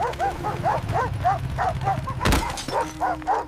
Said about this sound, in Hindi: सड़क खामोश थी जब तक कुत्तों ने हमला नहीं किया।